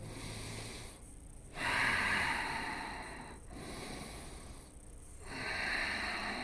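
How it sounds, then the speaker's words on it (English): Deep, slow breathing during a yoga stretch, long airy inhales and exhales alternating with brief pauses, close and clear, with no speech. "A few more breaths."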